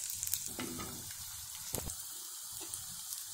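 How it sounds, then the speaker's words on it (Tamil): Tamarind water with jaggery bubbles and sizzles softly in a pan, with a few quick stirring clatters breaking the gentle hiss. "புளி தண்ணியை விட்டு கொதிக்க விடுவோம்"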